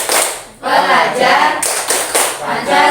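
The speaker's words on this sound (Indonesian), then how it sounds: "kita coba berdiri dulu Bapak Ibu, kita tepuk ketiga dulu" Group of teachers at a school staff session stand and clap a rhythmic chant pattern in bursts, hand claps close and loud, with voices chanting along between the clap sequences.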